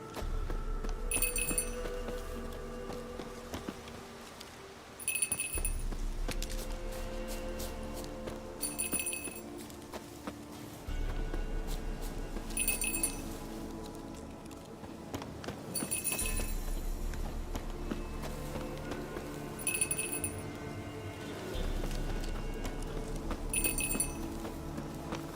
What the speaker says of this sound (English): Do I really have to keep ringing this bell for you to follow?